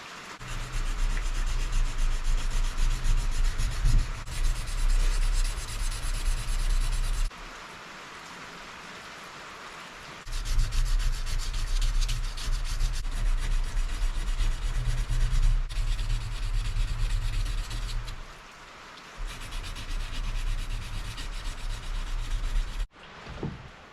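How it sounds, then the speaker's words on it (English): A knife blade made from chainsaw chain is sanded by hand with 320-grit paper, a steady rasping rub in long continuous bursts separated by short pauses. "Now we're gonna move on to 320, and I'll just do the same side"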